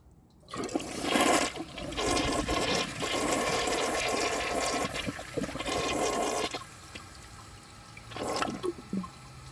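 A 2005 American Standard Cadet toilet flushes a dish towel with a loud, close rush of swirling water that surges for several seconds, then tapers into gurgles and a final splash, with no voices.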